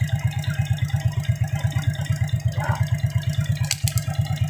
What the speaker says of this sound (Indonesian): Suara mesin pada Shogun 125 ini terasa halus.